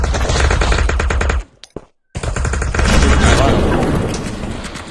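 Rapid automatic gunfire in the VR shooter game Aim XR, loud close bursts that cut off for a moment and then resume in a heavier, rumbling barrage.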